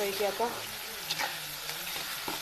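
Okra frying in a pan with red chili powder, turmeric, salt and chopped tomato, giving a steady close sizzle with light stirring scrapes and a brief murmur of a voice underneath.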